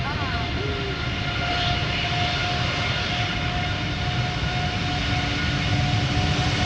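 A TUI Airbus A330 departing Amsterdam Schiphol Airport gives a steady, loud, sustained jet engine roar that stays constant throughout, with voices talking faintly beneath it.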